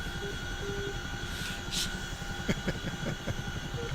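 Helicopter in the DCS flight simulator game, a steady engine and rotor drone throughout with a faint rhythmic thump and a few brief clicks, no voices.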